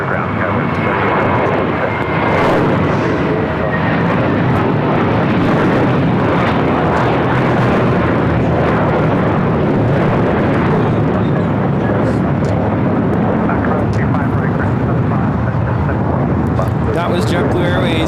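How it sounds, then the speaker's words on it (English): A JetBlue Airbus A321 taking off from LAX on a flight to JFK, its jet engines roaring loud and steady throughout, a broad continuous thrust rumble close by. "That was JetBlue Airways 424 taking off to JFK on an A321."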